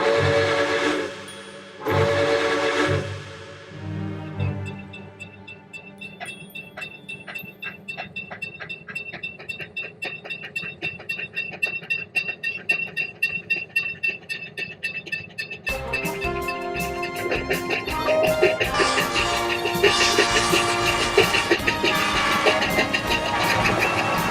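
A train horn in a video game sounds in a couple of loud blasts, then steady rolling rail noise with clattering builds and grows louder toward the end.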